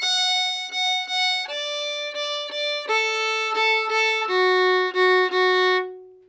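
A fiddle bows two strings at once in a steady shuffle rhythm, sustained double-stop notes shifting pitch in several groups before the last one rings out.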